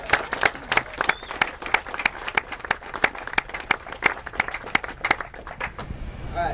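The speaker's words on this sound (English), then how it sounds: "So let's give Drago's a round of applause." A small crowd claps at a community welcome-home gathering, the sharp individual hand claps distinct and irregular rather than a dense roar, continuing for several seconds before tapering off.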